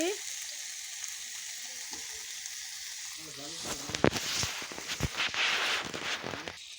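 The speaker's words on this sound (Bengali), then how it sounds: "এই যে নাড়াচাড়া ভালো করে করতেছি" Washed rice and lentils for khichuri being stirred in a pot, quiet at first, then a burst of close scraping and clattering strokes with a brief sizzle over the last few seconds, no voices.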